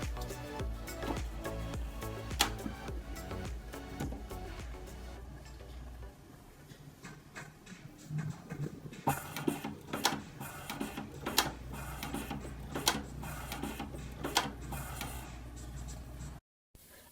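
A ChocoZAP nail printer machine runs after being switched on, giving off a steady mechanical whir with repeated sharp ticks and clicks, a quieter stretch midway, then denser clicking before it stops.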